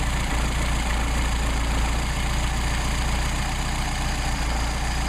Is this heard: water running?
no